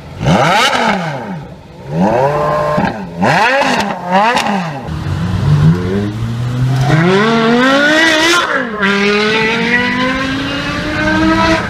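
A Porsche Carrera GT Gemballa Mirage GT engine revving hard, several sharp throttle blips followed by long rising and falling pulls and a sustained high wail, loud and close with no voices.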